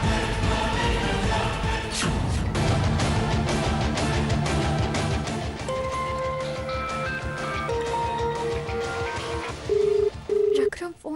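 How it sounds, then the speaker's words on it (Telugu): A telephone call goes unanswered in a Telugu TV serial scene: short dialing beeps under a busy music bed, then two clear ringback tones near the end, each about half a second long. "రఘురామ్ ఫోన్ లిఫ్ట్ చేయడం లేదేంటి?"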